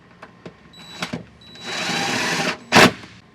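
A power drill drives screws while a Yamaha boat helm seat is fitted, with a few light clicks, then a steady whirring run of about a second and a short, sharp final burst, close and alone.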